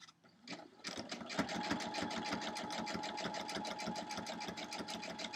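A sewing machine starts up and stitches a quilt block, its needle thumping in a fast, even rhythm over a steady motor hum, close and moderately loud.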